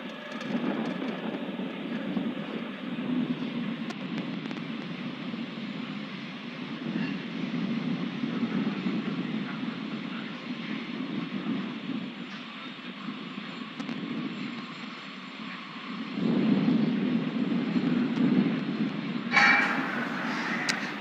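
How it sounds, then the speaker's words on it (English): A SpaceX Falcon 9 rocket lifts off from Vandenberg Space Force Base, its low rumbling roar rolling steadily and distantly, swelling louder near the end. "Falcon 9 has successfully lifted off from Vandenberg Space Force Base"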